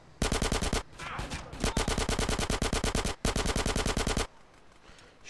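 Rapid bursts of automatic gunfire in the video game GTA San Andreas, loud and close, firing in three long sustained volleys with brief pauses between them and then stopping.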